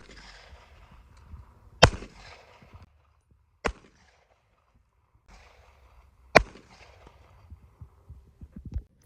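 A micro pocket pistol fires full metal jacket rounds at a target about 25 yards away. Three sharp, loud reports come at uneven intervals, each followed by a short fading tail over quiet background rustle.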